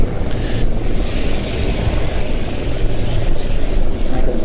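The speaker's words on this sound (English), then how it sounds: "The activity on the airfield at present sees the Bell 412 of the Czech police running up," Czech police Bell 412 helicopter running up on an airfield, a steady broad engine and rotor roar held at constant loudness throughout with no clear blade beat, fairly close.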